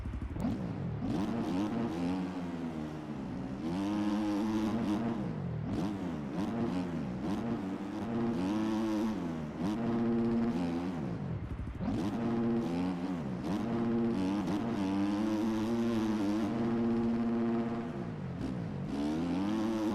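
A motocross dirt bike engine in the racing game MX Bikes revs and shifts continuously through a lap, its pitch rising and falling in repeated surges, steady and close throughout.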